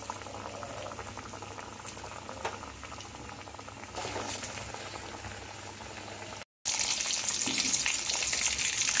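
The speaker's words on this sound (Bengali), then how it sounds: "আমি কড়াতে সাদা তেল দিয়ে গরম করে নিয়েছি ভাজার জন্য। আমি লো ফ্লেমে সবগুলো ভেজে নেব।" Minced meat and egg pakoras deep frying in hot white oil in a kadai over a low flame, a continuous bubbling sizzle with a brief dropout before it resumes, no talking.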